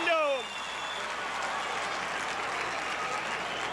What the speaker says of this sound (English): That crowd reaction tells you the way it is.